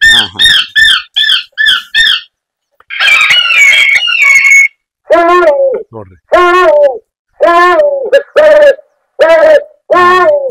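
A loud solar-charged electronic bird repeller on a farm plays a series of synthetic animal and bird calls: rapid chirping bursts, a squawk, then repeated wavering hoots, with brief gaps between them.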